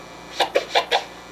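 Four quick turntable chirp scratches in a row, each a short bright swipe with crisp, clean edges and brief gaps between them.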